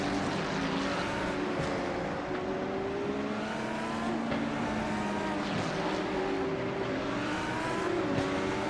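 GT3 race cars (Porsches, an Aston Martin, Corvettes, a Ferrari and a Lamborghini) lap Monza in a racing game, several engine whines overlapping and shifting pitch in a continuous loud drone with no voices.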